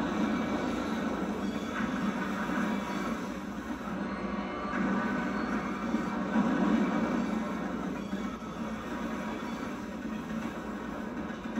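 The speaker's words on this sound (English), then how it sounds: "The train accelerates down the tracks and reaches 100 miles per hour." A continuous low rumbling roar of a large passenger train accelerating to 100 miles per hour along the tracks in a nuclear flask crash test, steady and fairly loud with a slight swell partway through.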